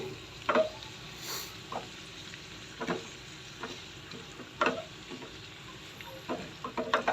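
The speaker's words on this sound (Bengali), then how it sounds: "পেঁয়াজের বেরেস্তাটা নেড়ে চেড়ে দিলাম" Fried onion beresta is stirred in a hot pan for beef liver kala bhuna, with a steady oily sizzle and several scraping stirs recurring throughout, close and fairly quiet.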